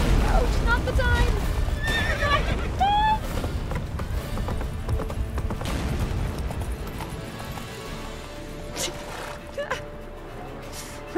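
Roach, the horse in The Witcher 3, gives several sharp whinnies early on, followed by galloping hoofbeats amid battle sounds and occasional thuds, with a voice talking over parts of it.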